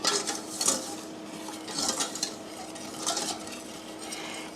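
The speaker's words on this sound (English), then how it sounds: "now to this, I am going to add my 1 cup of the cherry juice. And I'm going to stir that together." A spoon stirs a cherry juice mixture in a bowl for a cherry cobbler, giving soft swishing scrapes with a few louder clinks against the bowl, close up and with no talking.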